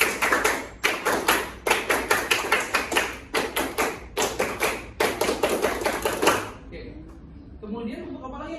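Scout clap performed by a group in a rhythmic pattern, sharp loud claps in quick bursts and pauses repeating for about six seconds, then stopping as faint voices follow.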